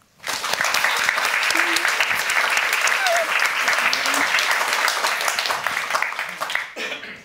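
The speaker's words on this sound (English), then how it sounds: "That sounded like a very solid applause." An audience at a European literature evening applauds the visiting authors: loud, dense, steady clapping that fills about seven seconds alone, then stops abruptly at the end.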